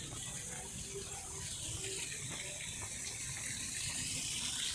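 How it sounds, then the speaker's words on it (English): Small waterfalls in a park in Encarnacion, Paraguay, give off a continuous splashing, gushing rush of falling water, moderately close and steady throughout, with no talking. "Again, some more waterfalls here."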